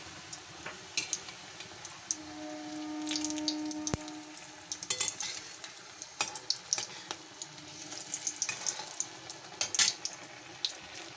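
Pickle-stuffed chili chops frying in oil over low to medium heat give off a quiet, irregular crackle of small pops and ticks, faint and steady with no voices.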